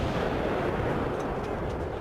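An M777 ultra-light howitzer firing Excalibur ammunition produces a loud, continuous roaring rumble, a dense low blast wash that fills the whole clip with no distinct separate reports.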